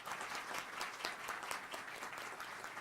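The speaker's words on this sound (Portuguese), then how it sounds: "a gente encerra com uma salva de palmas para vocês" Audience applause closes a talk at an event on Brazil's general data protection law, many hands clapping continuously with a few sharper individual claps standing out, steady and moderately distant.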